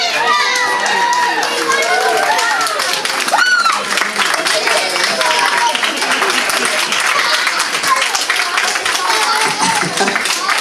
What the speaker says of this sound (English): Big round of applause, go on guys!